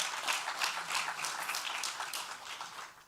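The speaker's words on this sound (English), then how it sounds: "Please can you give them a round of applause." An audience applauds teachers at a Department of Basic Education ministerial breakfast, a dense, steady wash of many hands clapping at once, sustained and fairly even throughout.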